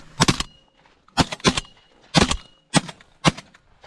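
Shotgun blasts during a pigeon hunt, five or six sharp, loud reports in quick pairs and singles over a few seconds, close by, with quiet gaps between.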